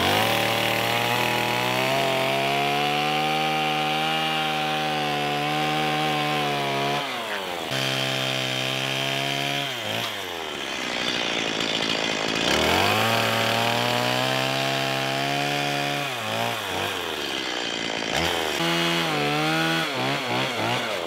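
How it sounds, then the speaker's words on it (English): A chainsaw roars and whines through wood, its pitch dropping under load and rising again between cuts, loud and close. "Run around with the chainsaw to cut that thing out."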